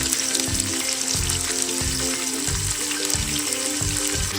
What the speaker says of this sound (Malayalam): ഇനി അതിലോട്ട് നമുക്ക് അരിഞ്ഞു വെച്ചിരിക്കുന്ന സവാള ഇട്ട് കൊടുക്കാം